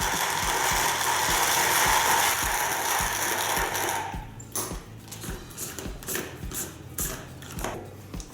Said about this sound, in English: Grinding.